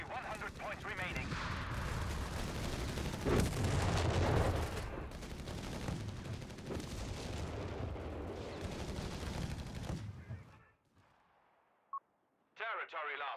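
Gunfire in the World War II strategy game Company of Heroes, a dense 4v4 multiplayer battle, rattles and booms loudly for about ten seconds with game voice lines over it, then drops to near silence broken by brief interface blips.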